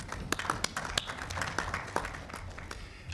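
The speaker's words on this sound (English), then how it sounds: "may I ask you to give him the round of applause, please." A round of applause from members of the Pan-African Parliament, heard as scattered sharp claps over a steady patter, fairly quiet and distant throughout.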